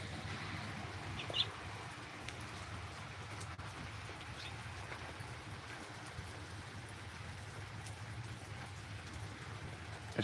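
Steady rain falls outdoors during a weather alert in Elmore County, Alabama, a soft continuous wash with a faint bird call or two and no talking.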